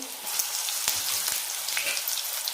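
Ginger, garlic, onion and green chilies sautéing in hot oil for a mutton curry tempering, a steady close sizzle with faint crackles and a couple of soft utensil taps.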